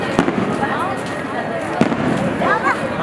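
Fireworks crackle and pop at a nighttime Guru Nanak birthday festival celebration, with sharp bursts and whistling rockets over crowd noise and someone talking.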